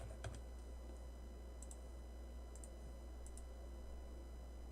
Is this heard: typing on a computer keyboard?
yes